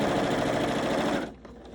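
A sewing machine stitching a fabric face mask, a loud rapid mechanical chatter of the needle running steadily for just over a second, then stopping abruptly and leaving faint handling sounds.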